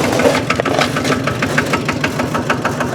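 A mid-sized engine runs loud and close with a rough, knocking pulse, revving steadily without letting up.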